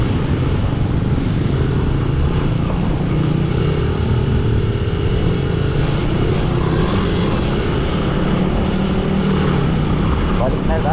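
Continuous engine drone of a motorcycle being ridden, running smoothly on 97-octane fuel, a steady loud rumble with wind noise throughout, no pauses.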